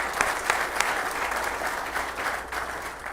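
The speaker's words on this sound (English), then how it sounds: "So I want to give a round of applause for them." Sustained applause from a large crowd at a Rhode Island FC soccer stadium topping-off ceremony, a dense wash of clapping that holds steady across the whole stretch with a few sharper individual claps standing out.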